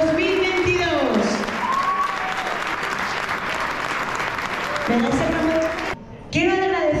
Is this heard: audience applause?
yes